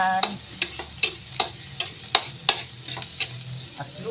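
Onion and garlic being stirred in a hot pan while cooking mussels, with a steady sizzle broken by repeated sharp clinks of a utensil against the pan.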